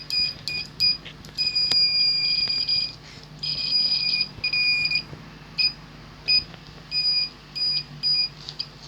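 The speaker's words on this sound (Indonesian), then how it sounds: "Ini fungsinya sebagai buzzer yang katanya tadi bunyi tit tit tit gitu." An electronic test tool for repairing compact fluorescent and LED lamps gives off short, piercing buzzer beeps, first in clusters and then in separate bursts, loud and near over a faint hum.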